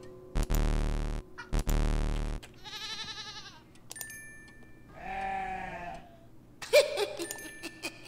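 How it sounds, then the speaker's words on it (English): Sheep bleats in the horror game Hello Puppets Midnight Show, several separate wavering cries spread through the clip, fairly close and loud, with no talk over them. "That's a sheep."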